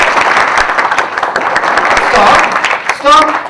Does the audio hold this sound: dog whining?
no